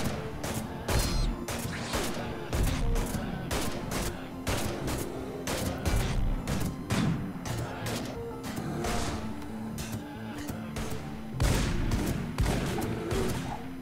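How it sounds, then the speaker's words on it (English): Turrets fire in the Rimworld video game as a dense, continuous fusillade of sharp gunshot cracks and impacts that stays loud and steady throughout. "Oh, the turrets are shooting as well."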